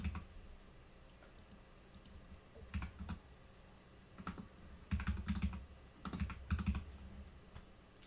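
Keys clatter in short bursts as a password is typed on a computer keyboard during a Linux install, quiet, close clicks separated by pauses with no voices.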